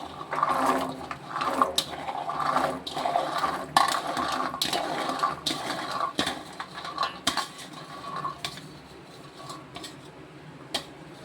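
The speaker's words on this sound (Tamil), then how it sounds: "இப்போ நம்ம சுண்டைக்காயை பூரா அதில் போட்டு கழுவிக்கிறோம்." Turkey berries are swished and washed by hand in a vessel of water, with close sloshing, splashing and sharp clinks against the container, gradually quieting.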